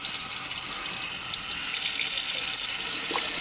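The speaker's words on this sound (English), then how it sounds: "we have got water there at the tap," Water pours steadily from a tap aboard a narrowboat with a constant hiss and splash, growing slightly louder partway through.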